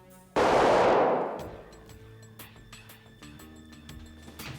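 A single sharp gunshot cracks loudly, then rings out in a long decaying tail, followed by faint scattered clicks and low background sounds.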